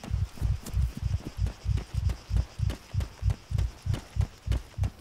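A rapid, pounding heartbeat in the video game Breaking Point: deep, heavy double thumps repeating steadily and close, about a dozen beats in a few seconds, loud with no talking over them.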